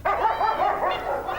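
Border guard working shepherd dogs bark and yelp close by, a quick run of loud, throaty barks and whines with no one talking.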